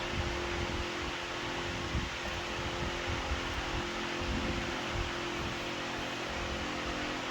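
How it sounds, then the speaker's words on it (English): Electric fan running in a garage during drive belt work on a 2006 Ford Explorer 4.0 SOHC, a steady loud whooshing hum with a low tonal drone, continuous and unchanging, with no talking. "Let me turn off the fan."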